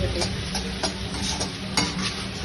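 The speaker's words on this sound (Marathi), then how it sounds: "आणि आता हे चांगलं मिक्स करायचे आहे" Boiled noodles are stirred with Schezwan chutney in a pan, producing a soft ongoing sizzle broken by regular spatula scrapes and taps, roughly two or three per second, close by.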